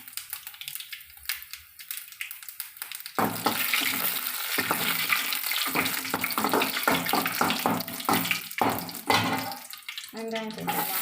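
Mustard seeds spluttering in hot oil in a pan while cooking a rasam and kootu, a loud crackling, sizzling rush that swells after a quieter start, with faint voice underneath.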